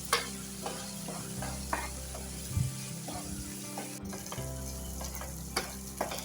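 Shallots and green chillies sizzle steadily in a hot pan for chicken thoran, with a close frying hiss and occasional clinks and scrapes of a spoon stirring.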